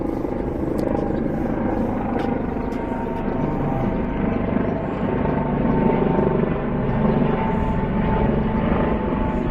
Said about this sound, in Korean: 헬기가 또 거기를 지나가네 요